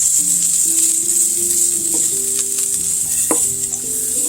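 Thinly sliced garlic cloves sizzle in olive oil in a pan, a loud, steady hiss running throughout, broken by a few soft clinks and scrapes of a utensil, up close and without speech.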